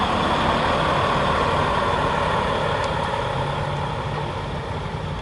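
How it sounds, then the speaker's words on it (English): A big truck engine idles in a steady, loud, low rumble that holds unchanged from start to finish and fades slightly toward the end. "He got a big ass truck there idling for 30 damn minutes"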